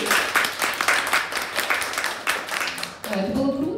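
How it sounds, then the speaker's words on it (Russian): An audience applauds at a tea-making championship award, a dense and steady round of close clapping that carries on with a brief dip near the end. "Бурные аплодисменты!"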